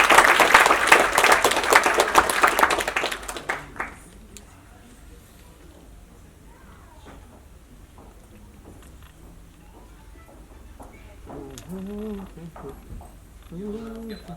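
A crowd claps loudly at a national integration arts event in Shimla. The dense applause lasts about four seconds and then cuts off into quiet room tone, and a voice speaks near the end.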